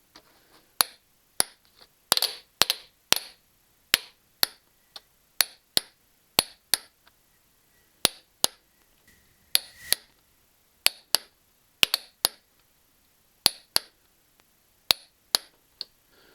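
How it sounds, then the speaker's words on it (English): A torque wrench tightening cylinder head bolts gives sharp, isolated metallic clicks, one at a time and sometimes in quick pairs, spread irregularly across a quiet background with no voices. "And now we have to torque the bolts to spec."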